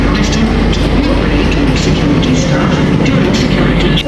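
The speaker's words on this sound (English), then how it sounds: "We survived the train and it was real packed." A packed commuter train in India rides the rails, a loud, dense rumble and rattle of carriages heard from inside. Crowd voices and chatter blend into the steady noise.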